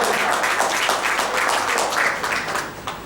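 A seated audience gives a sustained round of applause, with dense overlapping clapping that holds steady and then eases off slightly at the end.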